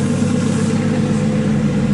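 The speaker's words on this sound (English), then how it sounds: "Engine is idling in there." A Nissan RB26 engine swapped into a Subaru WRX idles steadily at close range, a smooth, even mechanical hum with a low rumble and no revving, heard alone with no voices.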